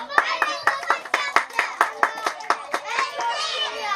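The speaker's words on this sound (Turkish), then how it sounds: "Ben hepinizi alkışlıyorum." Brisk hand clapping, a steady run of sharp claps from a small group, with children's voices faintly mixed in.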